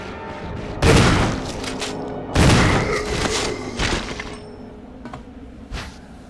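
Gunfire in the Resident Evil Remaster video game: two loud, sharp blasts with ringing decay about a second and a half apart, then a few fainter thuds and clatters as the scene settles.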